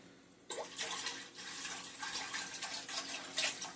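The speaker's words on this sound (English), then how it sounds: "I'm going to add maybe a cup of water" A cup of water splashes into a skillet holding half a box of black-eyed peas, a sudden steady gushing pour that runs for several seconds, close and moderately loud.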